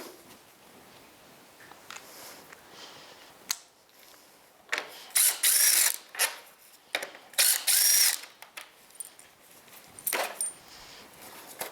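Ratchet wrench with a 10 mm socket working bolts loose on a 2007-18 Jeep Wrangler during a thermostat housing replacement, giving bursts of quick clicking that come in clusters with pauses between, close and fairly loud.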